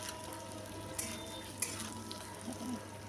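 Potato and papaya curry frying in a pan gives a low, steady sizzle with a few soft clinks of a utensil against the pan, quiet and close.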